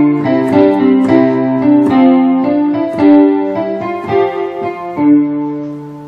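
A beginner's simple piano piece, Paciencia, played using only the ten keys of the first hand position. Clear single notes come at a slow, even pace, each ringing briefly before the next, close and alone.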